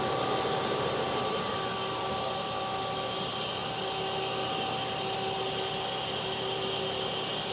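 Lathe spindle with a 6-inch chuck running steadily at 2700 RPM, a continuous even whirring hum with a faint high whine, no variation and no talk.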